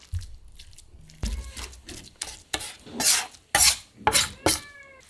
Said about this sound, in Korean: 두부를 으깨주세요